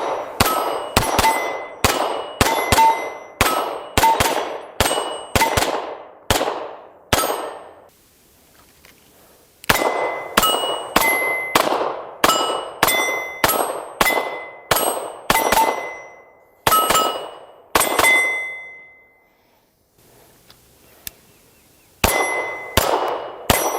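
Rounds from an ITM AT84 pistol, a Swiss-made CZ 75 type, strike steel targets in rapid strings. Sharp metallic clangs ring out one after another with brief ringing tails, and short pauses separate the volleys.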